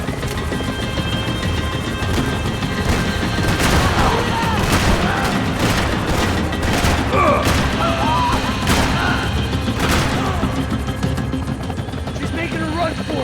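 Gunfire and explosions in the action game Max Payne 3, with rapid bursts and booms under an ongoing roar of engines or a helicopter while voices shout over the combat.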